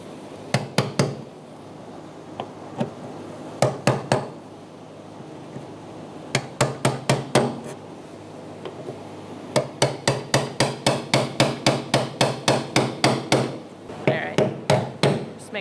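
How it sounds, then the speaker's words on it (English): Repeated sharp metal hammer strikes on a punch, seating the fuel pump retaining ring on a 2004-2009 Mazda 3 2.3L, coming in quick bursts of two to five blows and then a long steady run of evenly spaced hits, close and loud. "hammer it in."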